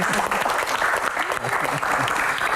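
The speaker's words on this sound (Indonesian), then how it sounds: "tepuk tangan" A studio audience at an Indonesian talk show breaks into loud, dense applause, a continuous close roar of clapping with some voices mixed in underneath.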